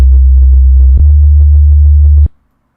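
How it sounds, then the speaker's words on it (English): A loud, steady low-octave sine wave sub-bass from the Sylenth1 synthesizer hums continuously, with a quieter rhythmic pattern of short notes above it, then cuts off abruptly into silence. "If you ever want to make like a sub bass, always use a low octave sine wave."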